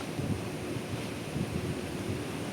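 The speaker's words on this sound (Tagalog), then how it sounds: "Lakas ng hangin guys." Strong typhoon wind rushes steadily outside a building in Hong Kong, a dense roar with gusty surges and no voices over it.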